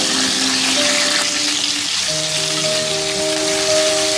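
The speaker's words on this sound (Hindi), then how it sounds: "इसी ऑयल में ये चिकन डालेंगे मैरिनेटेड और इसको फ्राई करेंगे" Marinated chicken fries in hot oil left over from frying onions, giving a loud, dense, continuous sizzle with crackling pops throughout.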